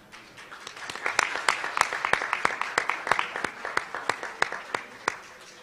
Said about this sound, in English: I want us to all give a round of applause to someone who has put his energy and his life behind saving mankind, Dr. Hong.